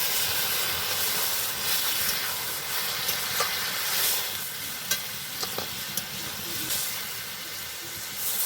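Water added to a cauliflower and chhana curry simmering in a pan gives a broad, steady steamy hiss and sizzle, broken by a few sharp utensil clicks near the end.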